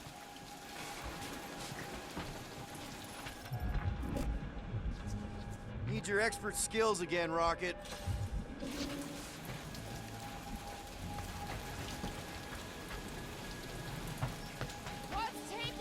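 Steady rainfall patters in the Guardians of the Galaxy video game, a soft continuous hiss behind character dialogue, with a louder burst of game effects partway through.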